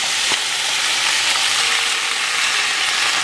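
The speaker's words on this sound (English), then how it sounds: "I'm just going to saute my spinach in my butter" Spinach sautéing in organic butter in a pan, giving a dense, loud, continuous sizzle and hiss heard up close, with no talking.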